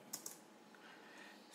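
Soft keystrokes on a computer keyboard while entering cell text in an Excel VBA session, a couple of sharp clicks up front followed by faint, quiet tapping in a hushed room.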